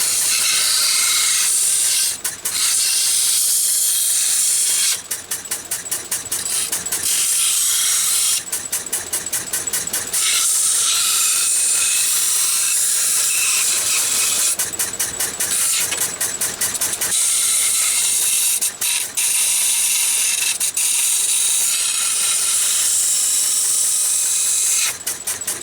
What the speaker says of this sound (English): deburred it all up, rounded the corners